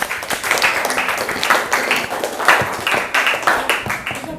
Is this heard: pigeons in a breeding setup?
no